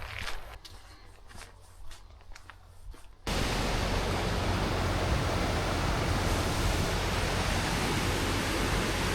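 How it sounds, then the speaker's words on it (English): A waterfall in England's Lake District roars as a loud, steady broadband rush that starts abruptly after a few seconds of quieter outdoor sound with faint footsteps, then continues unbroken and close. "These are the waterfalls we're going to."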